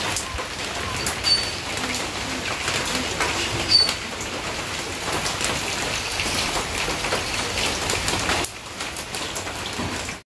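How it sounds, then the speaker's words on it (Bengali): Steady rain pours down in a rural village, a dense close patter that holds for about eight seconds and then eases slightly toward the end. No one speaks. "একটু পরেই এদিকে আবার চলে এসেছে বৃষ্টি"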